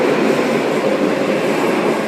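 Train passing at a station on a hot sunny day, a steady loud broadband rumble and roar that fills the whole clip without pauses.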